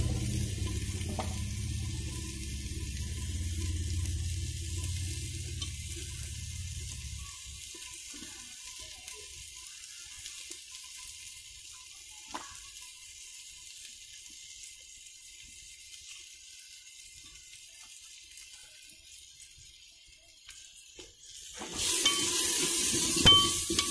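Masala spices fry and are stirred in a pan, a soft continuous sizzle with faint scraping, louder at first then quieter, ending with a brief burst of brighter hiss.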